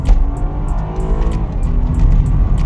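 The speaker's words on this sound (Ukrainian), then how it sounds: "А тепер стартанемо від нуля до сотні." BMW 428i Gran Coupe from 2015 with a 2.0 twin-turbo engine and automatic gearbox, launching from a standstill to 100 km/h in sport mode: a loud, steady engine roar climbs through the gears, with a faint tire squeal near the start.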